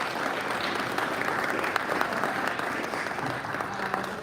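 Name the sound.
round of applause from audience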